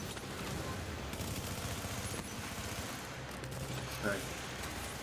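An automated turret in The Division 2 fires a steady, rapid stream of shots at a moderate distance, a continuous rattling barrage.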